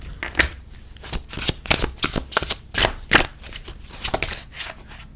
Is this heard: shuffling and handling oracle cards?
yes